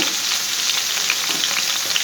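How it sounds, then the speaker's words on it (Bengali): Hilsa patoori wrapped in gourd leaves frying in hot oil, a dense continuous sizzle with fine crackles and pops throughout, close and fairly loud, no talk. "এই দিকটা ভাজা হয়ে গেছে ওই দিকটাও আবার এভাবে লাল লাল করে ভেজে নিব"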